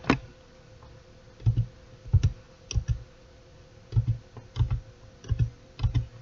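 Sharp key clicks in short irregular bursts as coordinates are typed on a computer keyboard for AutoCAD drafting, close and fairly quiet against a low background hum.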